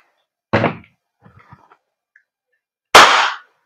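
Two sharp, loud gas blowback shots from a silver WE Hicapa T-Rex airsoft pistol, each a hard crack that decays quickly, spaced about two and a half seconds apart with faint handling clicks between.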